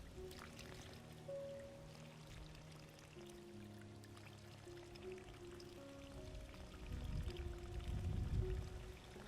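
Water pours and trickles from a sensor-controlled crop irrigation system, a steady faint flow under background hum that swells into a louder splashing gush toward the end.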